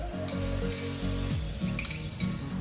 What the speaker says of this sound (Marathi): आपली कढई छानपैकी तापलेली आहे, आपण त्याच्यामध्ये तूप टाकूयात.